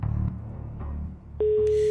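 A telephone rings during a live SMS-game prize draw on Polynesian television, with a rising electronic tone after a low murmur of background sound.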